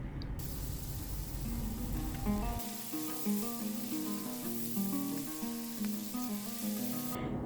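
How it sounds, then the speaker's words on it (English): Sage leaves and onion sizzling in a pan for a Mediterranean cauliflower soup, a steady close hiss lasting throughout with a soft musical melody playing over it. "I'm just gonna put a handful of our sage leaves in. And add our onion."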